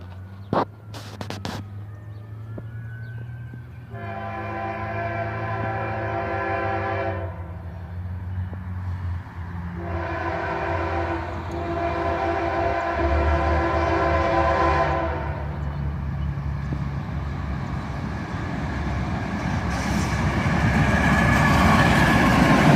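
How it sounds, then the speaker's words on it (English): CSX manifest freight train with two lead locomotives and a distributed power unit, sounding two long loud horn blasts over a low engine rumble that grows as the train passes close by. "I was able to catch this train. A CSX manifest train, with 2 locomotives on the front and a distributed power unit."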